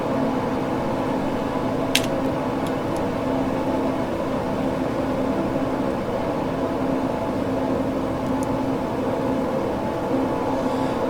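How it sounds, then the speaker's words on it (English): Propeller engines drone in Microsoft Flight Simulator 2020 as engines 3 and 4 of a four-engine airliner lose prop RPM, giving a steady, dense mechanical hum that fills the whole stretch, with a few faint clicks and no talk. "Hearing a change in the engine noise. I'm losing prop RPM"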